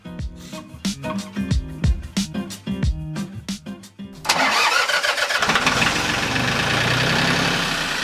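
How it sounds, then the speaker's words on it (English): A John Deere 750 tractor engine cranks in a run of rapid, irregular turnover pulses. It catches after about four seconds and settles into a loud, steady, rough running rumble close by. "After a couple hours, I returned to the tractor to fire it up"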